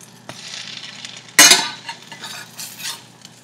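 A ham and cheese sandwich fries quietly in a pan while a spatula scrapes and clinks against it, one sharp loud scrape standing out midway, close by and without speech.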